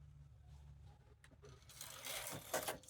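A knitting machine set to tension 8 works rows of stitches: a close carriage pass slides across the needle bed with a rising, rushing whir after a quiet start, with no talking.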